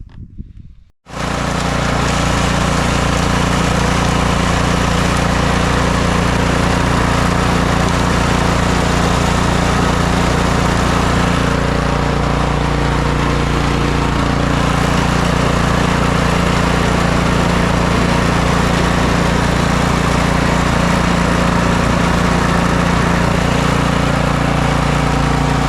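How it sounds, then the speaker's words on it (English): A snow blower engine starts up after an auger belt and drive belt replacement, then runs steadily and loudly for about 25 seconds in a continuous droning roar with slight shifts in tone midway. "I'm going to fire it up, see if this seems to be working properly"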